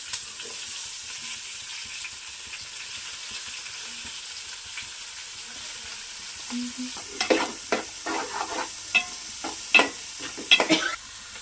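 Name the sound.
chopped onions and green chillies frying in a pan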